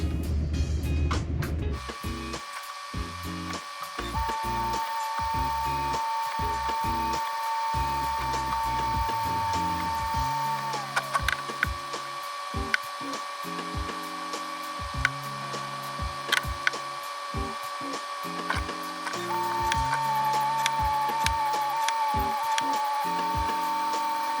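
A convex shear blade is polished on a TAS Standard Clamp sharpener. A motor runs with a steady high whine, broken by repeated grinding passes and short pauses, with no talking.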